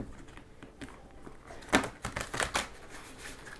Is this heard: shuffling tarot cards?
yes